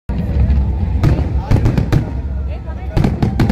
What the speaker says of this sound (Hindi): ढेर सारे पटाखे बजते हुए देखते हैं